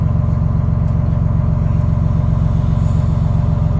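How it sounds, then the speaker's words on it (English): The engine of a 1973 American LaFrance Pioneer fire truck runs loud and close with a steady, deep pulsing throb, held at a constant speed with no clear rise in revs. "You want to give it a little bit of throttle."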